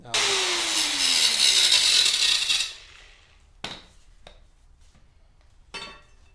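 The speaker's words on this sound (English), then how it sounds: "I'm just about to start cutting them" A power tool cuts through a steel car body panel of a 1986 Chevy Caprice Coupe, a loud harsh grinding burst for a few seconds, then spinning down, followed by a few sharp metallic clanks and taps.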